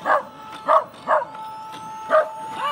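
A real dog barks at a Boston Dynamics Spot robot dog, giving four or five sharp, close barks in an uneven rhythm with short pauses between them.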